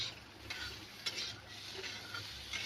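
Potatoes frying in a little oil over low gas while being stirred, a soft sizzle broken by several sharp scraping stir strokes in a pan, fairly quiet and with no talk.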